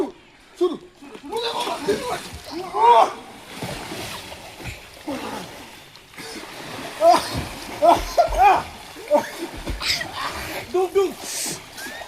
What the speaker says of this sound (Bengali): আমাদের প্রতিযোগী কেবল 5টা ডুব দিয়েছেন